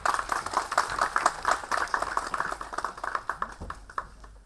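Crowd applause at an Ambedkar Jayanti celebration at IIT Delhi, greeting a singer invited onto the stage: dense, steady clapping from many hands that carries on throughout and thins slightly near the end.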